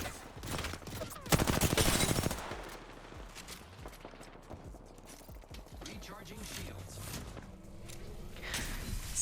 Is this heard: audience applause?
no